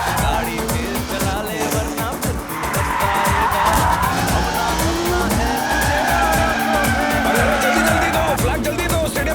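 A car turns around with its tires skidding and squealing continuously over a revving engine, loud and close for several seconds.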